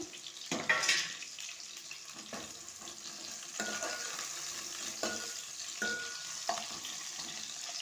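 Green chilies, bay leaf and cloves fry in a pan with a soft, steady sizzle, broken by a few clinks and scrapes of stirring, heard up close with no talking.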